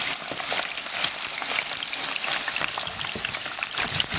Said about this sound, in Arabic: اول ما لونها يبقى ذهبي نحمر.